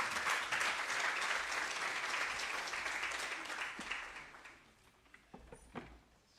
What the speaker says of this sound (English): let us welcome her with a round of applause